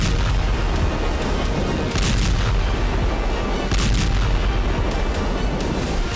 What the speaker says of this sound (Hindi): पहला धमाका, दूसरा धमाका,